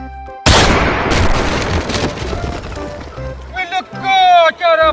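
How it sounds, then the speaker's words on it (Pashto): A motorcycle tire bursts with a sudden loud bang that rings out and decays into noise, followed by people talking loudly nearby. "د موټر سایکل ټیر پنچر شو"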